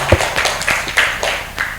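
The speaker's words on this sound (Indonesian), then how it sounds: "beri tepuk tangan untuk kita semua" Classroom applause at the end of a high school physics lesson on hydrostatic pressure, a short burst of scattered claps and taps from a small group, fairly close and brief.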